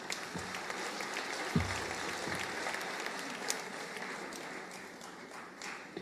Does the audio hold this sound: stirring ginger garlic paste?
no